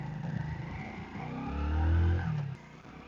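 A vehicle engine revs up and pulls away, its low rumble swelling to a peak in the middle before fading off, close by with no talk over it.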